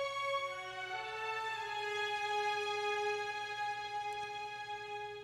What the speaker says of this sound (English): the violins sound like this second time we hear the melody.